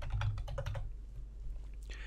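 Quick run of keystrokes on a computer keyboard entering a resource name, a close burst of tapping that stops after under a second, leaving quiet room tone and a faint click at the end.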